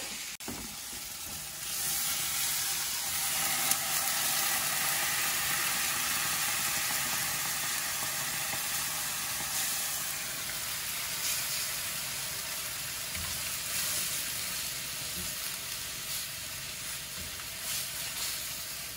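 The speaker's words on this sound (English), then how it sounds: "And then we're going to add our coconut milk." Curry sizzling hard in a pan just after coconut milk goes in, a loud, close hiss and bubbling that swells and then settles into a steady simmering fizz with a few clinks, no voices.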